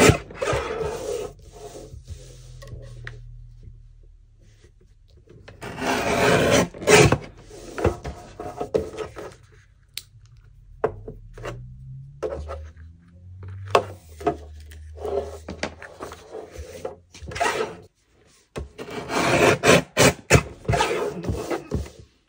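Clamped paper sheets for a hardcover junk journal are cut, giving irregular bursts of rasping and scraping strokes separated by quieter pauses with low bumps.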